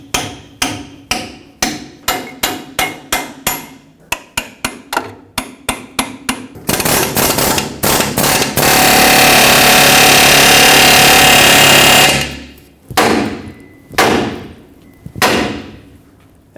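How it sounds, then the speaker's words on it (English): A hammer rapidly strikes a stuck pneumatic pickle fork on a 2011-2016 Ford F-350. About a dozen loud, close metallic blows come first, then a long continuous roar of air tool noise and a few final heavy hits. "I'm going to have to use a hammer and get all of this apart"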